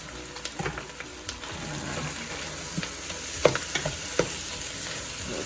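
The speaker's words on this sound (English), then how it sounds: "And now we're going to add the meat that we seasoned." Seasoned ground beef fries in a pan for pasta, a steady close sizzle with scattered sharp crackles and a few louder pops near the end, no voices.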